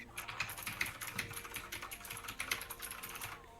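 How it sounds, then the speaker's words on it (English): Rapid typing on a computer keyboard clatters nonstop, with dense, close key clicks and occasional heavier strokes, steady and moderately loud with no speech. "Couldn't hear me over the typing."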